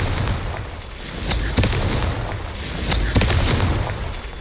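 A fire-blasting Confringo spell in Hogwarts Legacy goes off as a run of loud booming explosions, with sharp cracking bursts and a rumbling tail.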